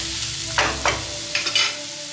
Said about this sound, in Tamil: அந்த மஷ்ரூம் வேகிற அளவுக்கு நம்ம இதை சாட்டே பண்ண போதும்